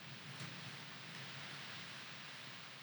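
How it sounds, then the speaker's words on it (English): Rain falls steadily outside during bad weather in Eastern Ontario, a faint, even hiss with a couple of soft, brief crackles and no voices. "It's raining out. Listen to that."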